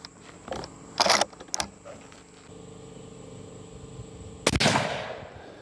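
Two sharp, loud rifle shots from a .257 Weatherby Magnum firing Hornady Interlock loads at a range, separated by a few seconds, with quieter mechanical clicks and handling noises between them.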